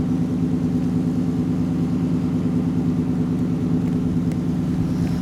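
A 1940 LaSalle Series 52 engine idles steadily with a low, even rumble, running continuously with no revving or voices.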